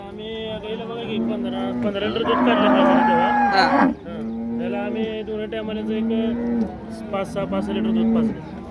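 Cows and calves moo repeatedly in long, low, drawn-out calls that overlap one another, loud and close, with a steady background at the Modnimb cattle market.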